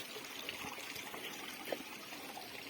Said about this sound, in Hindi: आपको यहाँ से थोड़ा पानी से बहता हुआ दिख रहा होगा